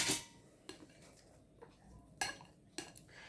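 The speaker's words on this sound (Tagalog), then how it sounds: "Now I'm going to mix everything" Rice noodle salad with tomato, carrot, cucumber, paprika and shrimp mixed in a bowl, a faint run of scattered clinks and taps of utensils against the dish, with quiet stretches between them.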